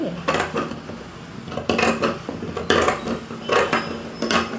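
Scissors cut blouse sleeve fabric at a tailoring table, giving a series of close, crisp snips and metallic clicks in an uneven rhythm.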